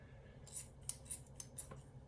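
Scissors snip through butcher twine tied around a stuffed tri-tip roulade, four or five quick close cuts spaced across about two seconds, crisp and light, with no talking.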